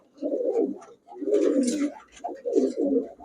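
Army breed pigeon cooing in repeated low, throaty bursts, three close phrases separated by short pauses.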